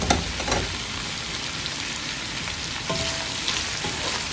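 Sotanghon glass noodles with Calabrian beans sizzle steadily in a hot pan while being stirred, a dense, continuous frying hiss with a few soft utensil scrapes and no voices.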